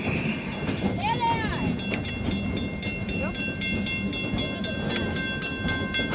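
A steam train running on a loop at the Midwest Old Threshers Reunion showgrounds, steady rumbling and rhythmic clacking with whistle-like tones, heard amid outdoor crowd noise and a person speaking.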